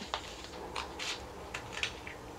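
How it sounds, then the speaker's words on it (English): Scissors cut paper stickers by hand, giving a few quiet, close snips and crisp paper rustles spaced irregularly over a soft background hiss. "So I'm just going to cut those out by hand."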